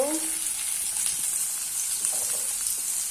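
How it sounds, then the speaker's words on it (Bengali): Onions and shrimp fry in a pan in a village kitchen, a steady close hiss of sizzling oil running throughout with faint stirring scrapes and no talk. "পেঁয়াজগুলো ভেজে নিলাম আর চিংড়ি মাছটা দিয়ে দিই"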